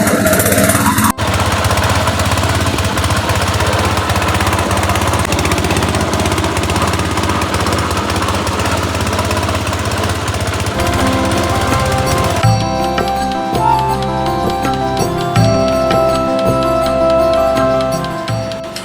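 A petrol-powered milking machine runs continuously close by, a loud steady mechanical chugging and rattling engine drone with a pulsing vibration that holds throughout.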